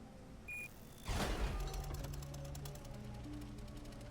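Fireworks in the game Tales of the Neon Sea go off as a sharp burst, followed by a few seconds of crackling and fizzing with no talking.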